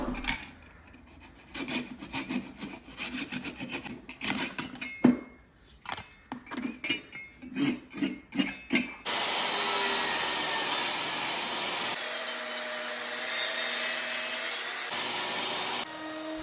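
A saw rips thin strips off the sides of a teak furniture leg using a jig, with rasping, rubbing cuts followed by a steady loud whine of the running saw.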